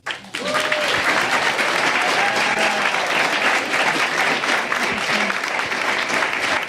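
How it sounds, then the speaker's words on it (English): Sustained applause from a panel-event audience, dense and steady, rising quickly after a brief start and filling the room, with faint voices mixed in. "All right, then claps."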